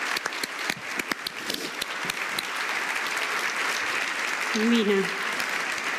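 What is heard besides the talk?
audience applause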